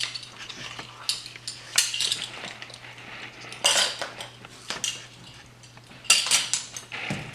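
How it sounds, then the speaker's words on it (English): Cookie dough being mixed with kosher salt in a bowl, heard as irregular scraping and clinking of a utensil against the dish, louder at intervals, with a steady low hum underneath and no talking. "And continue to mix."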